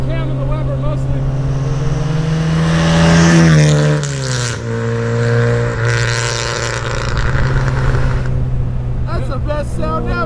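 A 1967 MGB roadster vintage racer with an 1800cc engine, racing cam and Weber carburetor roars loudly from inside the car under way, rising and dipping through gear changes while people talk over it.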